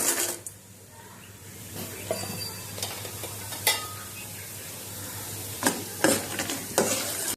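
Hot peanut oil hisses and crackles steadily with tempering spices while a spoon stirs and scrapes in the pan, with a few sharp pops.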